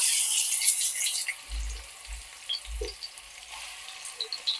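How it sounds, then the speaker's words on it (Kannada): Onions fry in a little hot oil with a hissing sizzle that is strongest at first and then thins out, broken by a few dull knocks of utensils against the pan. "ಆನಿಯನ್ಸ್ನ ಕಂಪ್ಲೀಟ್ ಆಗಿ ಫ್ರೈ ಮಾಡ್ಕೊಬೇಕು"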